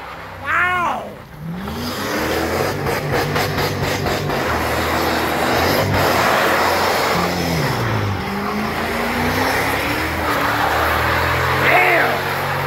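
A V8 all-wheel-drive Jeep Cherokee revs loud and close, its engine climbing and dropping through repeated high-rev pulls and neutral drops in a sustained roar, while excited voices shout around it.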